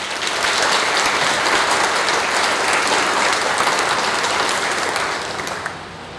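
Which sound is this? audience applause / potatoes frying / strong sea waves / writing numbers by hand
audience applause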